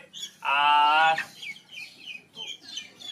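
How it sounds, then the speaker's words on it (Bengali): A Chinese-breed chicken with a white breast and black back gives one loud, drawn-out squawk up close, followed by softer scattered clucks and chirps. "3 পিস চীনা মুরগি।"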